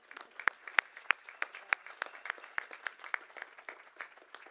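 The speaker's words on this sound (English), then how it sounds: "give a moment to have a round of applause even for Wainima Morris" Applause for Wainima Morris at a Nebraska Indian Community College gathering, a modest, sparse round of individual claps close by, uneven in rhythm and thinning out over a few seconds.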